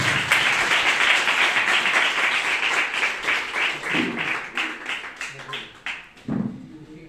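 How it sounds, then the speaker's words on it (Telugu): A church congregation claps in a loud, dense burst that gradually thins into separate claps and dies away, with voices mixed in underneath. "మీరు చప్పట్లు కొడితే ముందు కార్యక్రమం"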